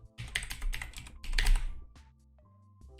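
Quick bursts of typing on a computer keyboard, a rapid cluster of close clacking keystrokes followed by a couple of isolated presses and a faint tone.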